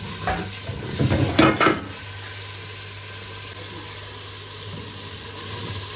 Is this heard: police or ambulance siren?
no